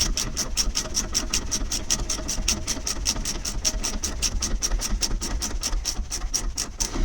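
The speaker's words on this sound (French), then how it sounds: "il ne nous reste plus qu'à resserrer notre vis" Power tool tightening a screw on the rear suspension of a Renault Clio 3 during a spring change, a loud continuous rapid ratcheting buzz with regular sharp clatters, up close and steady with no talking.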